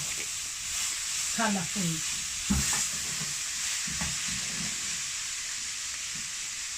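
Purple cabbage sizzles and fries with vegetables in a pan, a steady close hiss with occasional scraping stirs, while a voice talks briefly over it.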